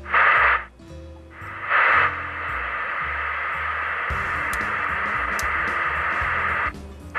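A Galaxy DX 929 or President Lincoln CB radio transceiver under repair hisses with broad, steady receiver static, cut by short gaps and a few brief squelch bursts, close and moderately loud.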